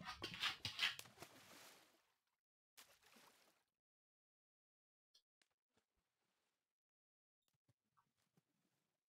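Dog whimpering in the Minecraft video game, a short burst of whiny yelps in the first two seconds followed by a second brief cry, then near silence with faint scattered clicks.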